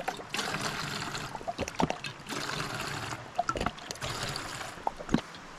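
Water is poured for boiling a backpacking peanut noodle meal, trickling and splashing in soft, uneven bursts that swell and fade several times, quiet and close, with no one talking.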